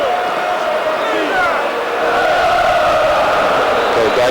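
A stadium crowd roars continuously at a 1997–98 UEFA Cup football match between Lazio and Rotor, a broad sustained wash of cheering with commentary spoken over it.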